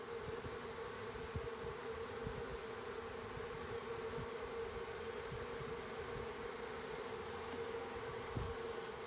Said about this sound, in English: if I can get the queen in the box, the bees will follow her in there.